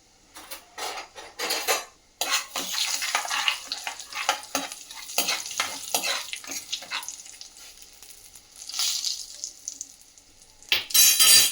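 In a pan, mustard seeds, fenugreek and asafoetida are fried as tempering for tomato chutney, stirred with repeated metallic scrapes and clinks over a soft sizzle, with no talking.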